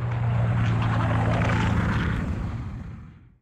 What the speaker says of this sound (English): plane taking off from a runway